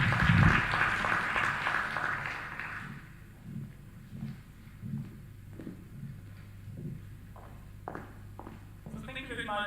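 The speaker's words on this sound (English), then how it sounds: "I think we need to give her a better clap" Audience at a national human rights dialogue in Kenya gives loud applause at first, fading after a few seconds into scattered footsteps, shuffling and a voice.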